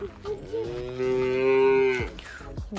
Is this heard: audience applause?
no